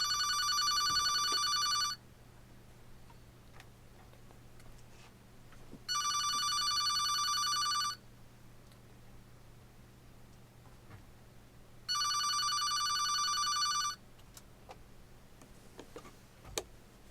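A telephone rings for an incoming caller to a sports radio talk show: three even two-second bursts of bright electronic ringing spaced about four seconds apart over a quiet low hum, with no talking.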